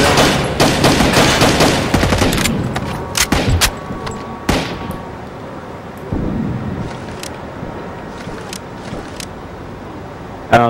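Loud, sustained automatic gunfire in the Rainbow Six Vegas 2 video game rattles for the first few seconds. Scattered isolated shots and softer ambient rumble follow, ending with one last sharp crack.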